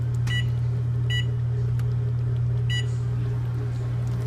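Microwave oven keypad beeping as cooking time is entered for a beef stew: three short electronic beeps spaced about a second apart, over a steady low hum from the running oven.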